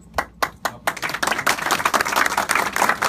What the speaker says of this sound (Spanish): Un aplauso para cada uno de ustedes.